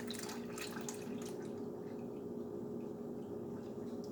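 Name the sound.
pouring two more cups of liquid into a saucepan for hot cocoa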